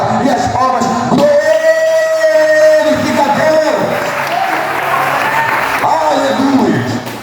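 A church congregation applauds and cheers loudly, with sustained clapping, whoops and shouts under a preacher's voice calling out over the crowd.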